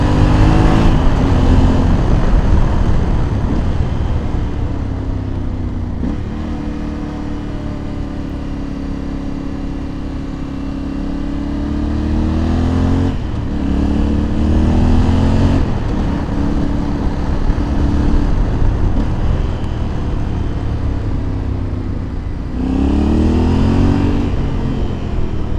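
Vehicles pass one after another with engines rising and falling as they approach and pull away. A continuous traffic rumble fills the gaps, and there is no talk.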